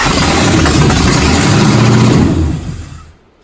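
A 1992 Mustang GT 5.0 302 V8 fires up on starter fluid, running loud and rough for a few seconds before dying out abruptly.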